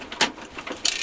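A screwdriver turning screws out of a PC case, giving short ratcheting, grinding clicks heard up close in quick bursts, with no talking.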